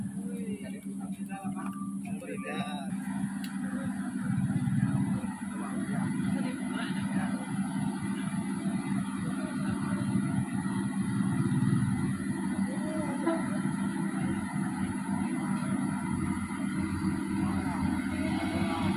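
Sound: orange Mitsubishi Fuso truck engine arriving

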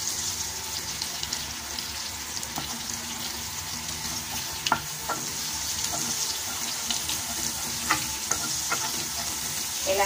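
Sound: sautéing Century tuna in butter in a pan

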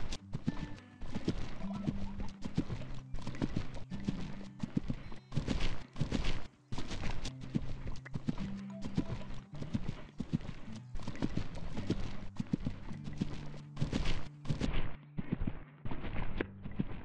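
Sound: horse hooves and neighing in video game Equestrian The Game

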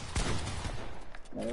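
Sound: gunfire in Fortnite video game

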